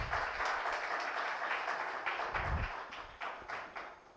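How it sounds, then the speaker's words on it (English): An audience at a fashion institute graduation show gives a round of applause to welcome guests; the clapping is steady and moderately quiet, thinning into a few separate claps toward the end. "Let's welcome them with a big round of applause."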